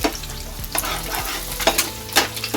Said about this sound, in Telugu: ఎగ్స్ వేసుకున్నాం. మంచిగా హీట్ అవ్వాలి. అవి మనం ఇలా రోస్ట్ చేసుకుంటూ ఉండాలి. ఆయిల్ హీట్ అయిపోయింది కాబట్టి అలా వస్తుంది.